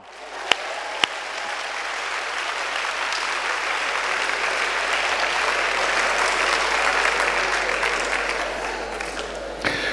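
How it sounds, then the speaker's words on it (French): A church congregation applauds a woman during a sermon, a dense sustained burst of clapping from a large crowd that builds and holds for several seconds, with a couple of sharp claps at the start. "Acclamez pour cette femme."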